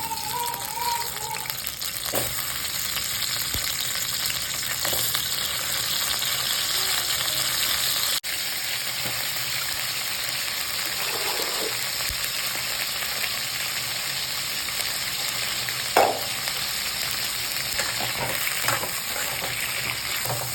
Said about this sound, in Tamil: எண்ணெய் காய்ஞ்ச உடனே கத்திரிக்காய் போட்டுக்கலாம்